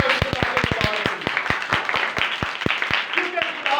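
An audience at a church prayer meeting claps, starting with quick separate claps and thinning to slower scattered ones, while a voice keeps talking over and after the clapping.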